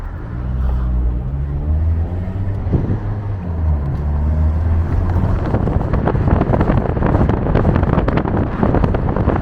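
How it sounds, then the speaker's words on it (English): Riding in a taxi on the road toward Erbil, a steady loud low rumble of engine and tyres with heavy wind buffeting against the microphone, continuous with no talk. "now we go with this taxi"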